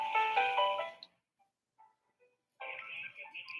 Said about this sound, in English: Can you hear the copyright-free background music?